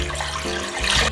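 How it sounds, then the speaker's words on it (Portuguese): Water pours steadily into a cooking pot in a home kitchen while pasta is being prepared, a continuous close splashing rush lasting about a second with no talking. "Vamos começar por num tacho deitar água."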